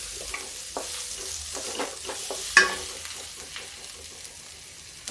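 Onions sizzle gently in a pan over low heat, a steady close crackle of frying with occasional stirring scrapes and one sharper clink partway through.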